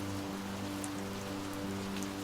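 Rain used as a sound effect in a Hindi audio drama: steady, dense hiss of falling rain, continuous and even throughout, with no voices.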